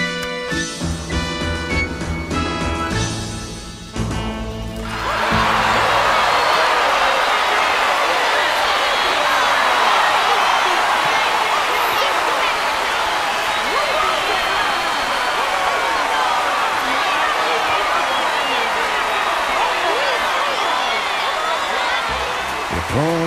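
At the ballet, a brief musical phrase gives way to a dense, loud wash of sustained audience applause that continues steadily to the end.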